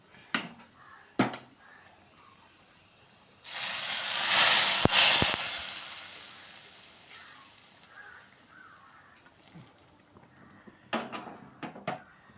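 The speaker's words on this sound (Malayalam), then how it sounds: "ഈ കടുക് വറുത്തത് നമുക്ക് ഇതിലേക്ക് അങ്ങ് ഒഴിക്കാം." A few metal clinks of pot and spoon, then fried mustard seed tempering hits a fish-less fish curry in a sudden loud hissing sizzle that fades over a couple of seconds before more utensil clatter.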